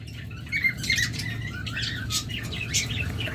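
A male and female pair of split blue lovebirds kept for sale chatter nearby with short, scattered squawks and chirps over a low background hum, fairly faint and irregular.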